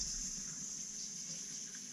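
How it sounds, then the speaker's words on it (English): Tap water running steadily over hair being rinsed after dyeing, a continuous close hiss of flowing water with no pauses. "And you're supposed to rinse it until all the water runs clear."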